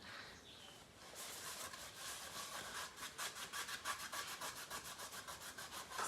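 Wet painted wood being rubbed by hand to distress the finish, starting as a soft continuous scrub and settling into quick, rhythmic back-and-forth strokes, close and fairly quiet.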